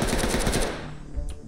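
Rapid automatic gunfire in the tactical shooter Ready or Not, a loud close burst of shots for about half a second that fades, then a single sharper report shortly after.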